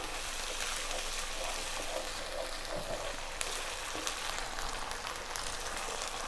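Garlic ginger paste, an even mix of the two, sizzles steadily in a pan, a continuous hissing fry with faint scrapes of stirring, no talk over it.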